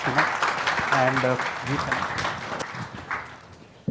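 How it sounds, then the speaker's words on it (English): Audience applause for the panelists closing a digital marketing panel discussion in Bengaluru, a steady broadband patter lasting a few seconds while a voice speaks over it. "Can I have a warm round of applause for all the panelists?"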